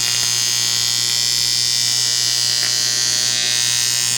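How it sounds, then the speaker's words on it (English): An AC TIG welding arc on aluminum buzzes in a loud, constant harsh hum close to the torch, steady without a break and with no talk. "AC aluminum welding."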